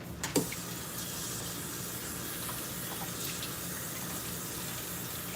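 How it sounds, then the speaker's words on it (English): Tap water runs steadily into a sink while hands are rinsed in a home kitchen during taco and donut cooking, a constant broadband splashing hiss with a brief louder gush near the start. "let me rinse my hands again"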